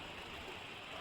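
A river flows in a steady, broad rush of water, continuous and even throughout, with no voices.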